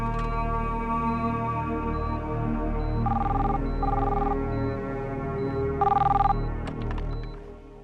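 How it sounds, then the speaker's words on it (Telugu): A telephone rings in three short bursts over steady background music in a film scene, fairly loud and close. "డాక్టర్ రాజా మీకు ఫోన్"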